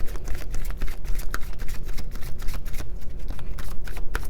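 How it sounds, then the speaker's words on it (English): Tarot cards are shuffled rapidly and continuously up close, a dense papery flutter of quick slaps and riffles with no talking. "I've already pre-shuffled these, so I really don't need to shuffle them up a lot."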